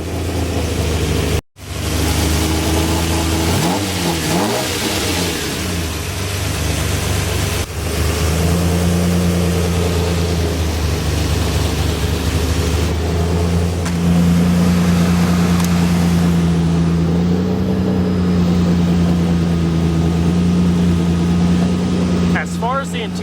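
Lamborghini Countach 5000 Quattrovalvole engine, a V12, starting with a sharp catch and then settling into a loud, steady exhaust rumble with slight swells in pitch, carrying on alone for the whole stretch.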